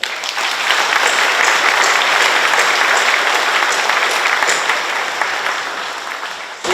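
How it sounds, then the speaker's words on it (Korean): Loud, sustained audience applause at a golden jubilee celebration for three Catholic priests, a thick continuous roar of many hands clapping that swells early, holds steady and tapers slightly before a sharp sound at the end. "박수 한번 부탁드립니다"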